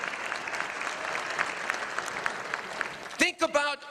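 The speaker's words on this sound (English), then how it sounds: "Think about, yeah, clap, this is important. Clap for you, not for me." An audience at an Albanian American celebration in Michigan breaks into sustained applause, dense clapping filling the hall for several seconds before a voice cuts in near the end.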